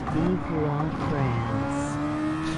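Formula 1 race car in the F1 2022 game on the Austrian Grand Prix circuit, engine pitch rising and falling through gear shifts, steady and prominent with a voice talking over it.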